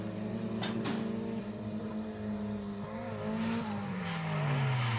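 Drift cars slide through the course at a Mineral Wells drifting event, their engines heard at a distance as sustained revving tones that rise and fall, with faint tire squeal mixed in.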